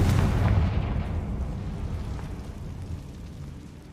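Confringo spell explosion in Hogwarts Legacy, a heavy rumbling blast that strikes loud at the start and then rolls off into a long, fading low roar.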